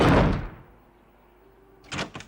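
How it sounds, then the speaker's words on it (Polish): A door slams shut with a loud, close bang that dies away into a quiet room tone, followed by a few muffled knocks and thuds. "nigdy nie pozwól klientowi zatrzasnąć drzwi"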